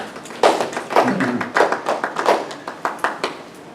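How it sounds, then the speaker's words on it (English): A small group claps in a classroom-style room, a steady patter of hand claps that starts loud and thins out over a few seconds, with a brief cheer partway through. "Yay, clapping and cheering."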